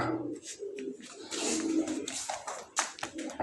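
Pigeons coo softly nearby in low repeated murmurs, mixed with rustling and a few sharper flutters or chirps.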